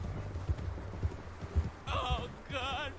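A horse gallops across open country in the video game Red Dead Redemption 2, with rhythmic clip-clop hoofbeats followed by a couple of short whinnying neighs, heard alone.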